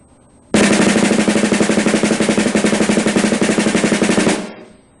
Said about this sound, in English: Here's how the single stroke roll sounds faster.